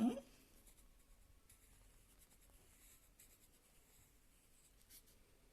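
Pen strokes scratch faintly on paper as the French word œuf is written by hand, a quiet series of short scrapes in a still room.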